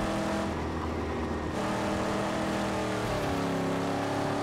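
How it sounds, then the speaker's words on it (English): A car driving in the Mad Max video game on the road to Gastown, with a loud, steady engine drone that shifts pitch as it accelerates and changes gear, heard with no talk over it. "I love driving in this game."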